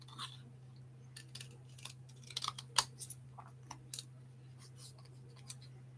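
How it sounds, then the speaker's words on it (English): Scissors snip out card pieces for a mystery card kit in scattered, light, irregular clicks over a quiet room hum, with some faint background movement. "Right, so finish cutting out this one."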